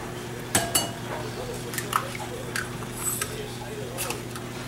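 Two eggs cracked into a mixing bowl for chocolate molten lava cake batter, several sharp clinks and taps against the bowl with soft wet squishes, close up over a steady kitchen hum.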